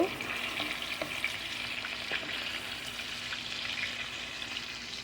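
Coconut prawn masala frying with chopped onion and green chili in a Barishal-style home kitchen, a steady close sizzle with scattered stirring clicks and scrapes, continuous and moderately loud with no talking.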